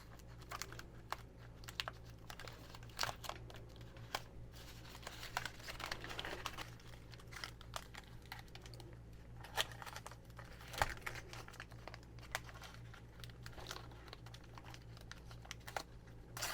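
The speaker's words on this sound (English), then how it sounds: "I'm going to run some tape around here so I don't get any in the crack there." Masking tape being run around a new replacement water pump on a C3 Chevy 5.7L 350 before priming, with steady crinkly peeling and tearing sounds close by, alone, over a low electrical hum.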